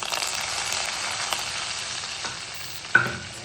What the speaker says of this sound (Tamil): குழம்பு நல்லா கொதிச்சிச்சு. அது தாளித்து ஊற்றிக்கலாம்.